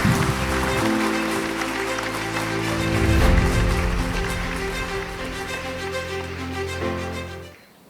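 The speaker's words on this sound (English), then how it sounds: "Let us all give him a warm round of applause." At a university graduation ceremony, an audience applauds a Chief Justice receiving an honorary Doctor of Laws from Manuel L. Quezon University: a dense, sustained wash of clapping over steady background music that fades out at the end.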